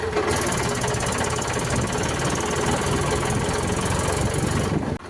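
Farm tractor engine running close by, a loud, steady knocking diesel chug that holds for several seconds before cutting off abruptly at the end, with no voices.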